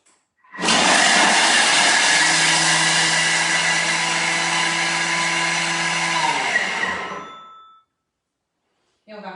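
Kitchen food processor chopping a small amount of gruyère cheese at speed 5, a loud, steady whirring motor run of about seven seconds that stops abruptly, followed by silence.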